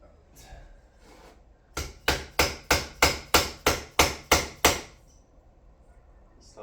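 Ten sharp, evenly spaced hammer blows drive a socket onto a bicycle fork during a 2024 Esker Japhy build, loud and close, each strike a crisp metallic knock with a quick decay, set between quieter shop ambience.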